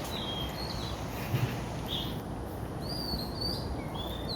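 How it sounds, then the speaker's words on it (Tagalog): Birds sing among shady trees in a series of faint, thin chirps and short whistled calls scattered over a soft outdoor hiss. "Tapos ang ganda pa ng mga ibon. Nag-aawitan."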